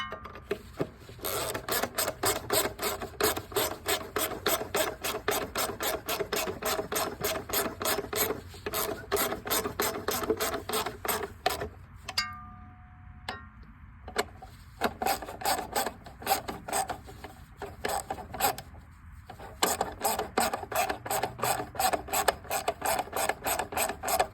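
Ratchet tightening a heat shield bolt on a 2004 Ford Focus, a long run of quick, close rasping clicks in steady bursts with a short pause midway, nothing else audible.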